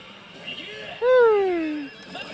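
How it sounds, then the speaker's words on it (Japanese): Bancho ZERO pachislot machine playing its camouflage helicopter freeze effect, a single loud, rising-then-falling tonal whine lasting about a second over quiet machine background. "迷彩ヘリフリーズ"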